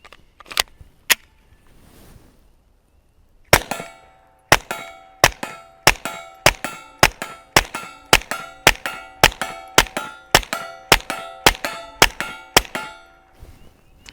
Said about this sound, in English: That's 16 rounds at a plate at 32 yards away.